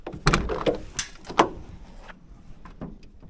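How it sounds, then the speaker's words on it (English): A Ford van door is unlatched and swung open, giving a few sharp clunks and clicks followed by quieter rattles, all close by with no talking. "I forget how this door unlatches"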